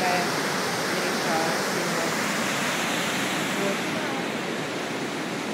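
A river near Ketchikan, Alaska rushes steadily in a continuous broad roar, close by, with no break or change throughout.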